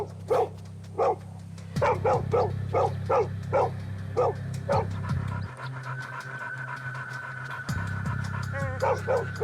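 A dog barks repeatedly from inside a cage, sharp yaps and panting in quick bursts, close and fairly loud, with a low mechanical hum underneath that drops out partway through.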